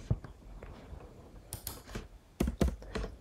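Typing on a computer keyboard in short bursts of clustered keystrokes, with a couple of louder flurries near the end, fairly close and alone with no talking.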